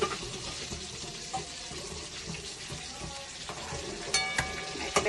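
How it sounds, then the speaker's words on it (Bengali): Eggplant fries in hot oil in a pan, a continuous close sizzle with bubbling crackle, broken by a few sharper scraping and clinking touches near the end. "বেগুনটা একেবারে পুরো ভাজা হয়ে গেছে, ভালো করে ভেজে নিয়েছি"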